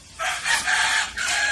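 A rooster crows close by in one loud, drawn-out call with a brief break before the final note, heard alone with no talk.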